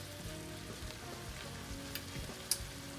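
Chicken seasoned with kosher salt sizzles in a pan for quesadillas as it is stirred, a steady close-up frying hiss broken by a few light utensil clicks.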